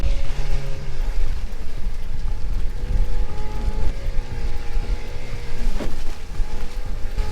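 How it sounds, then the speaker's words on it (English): A 1985 Stacer 3.4m aluminium boat runs its outboard at full throttle, a steady loud motor drone with water slapping the hull and wind buffeting throughout, with no talking. "this is going full throttle."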